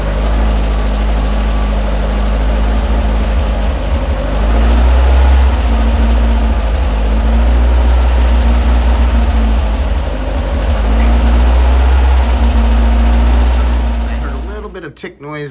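An air-cooled VW engine with CNC ported heads runs at a steady idle, a loud low throb with slight rises and dips in speed, then cuts off abruptly at the end.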